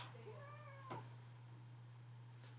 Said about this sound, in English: I got my cat.